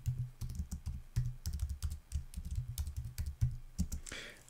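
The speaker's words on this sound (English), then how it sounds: "So if I type in a longer message" Rapid, close clicking of typing on a computer keyboard, with uneven bursts of keystrokes continuing for several seconds.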